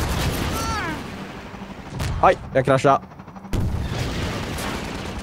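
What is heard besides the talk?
gunfire in a video game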